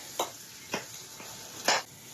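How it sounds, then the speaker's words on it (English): A spoon stirs chili powder with roasted vegetables in a skillet, giving three short scraping sweeps, the last the loudest, over a faint sizzle in a quiet kitchen. "All right, give that a stir"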